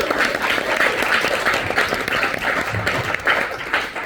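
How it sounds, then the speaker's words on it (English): An audience at a live London interview event applauds in a steady, dense round of clapping that carries on for several seconds at even strength. "Can we get a round of applause for"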